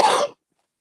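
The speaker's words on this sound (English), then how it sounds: "See, the cough's not totally gone, but isn't it better" A single short cough, close and abrupt, cutting off into silence.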